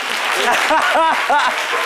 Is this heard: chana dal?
no